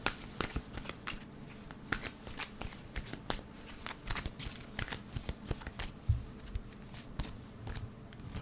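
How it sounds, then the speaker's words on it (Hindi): Tarot cards shuffled and drawn from a deck, a steady run of quick papery riffles and flicks, close and fairly quiet, with no talk. "3 कार्ड्स मैं आपके निकालूंगी। 3 कार्ड्स आपकी एनर्जी के"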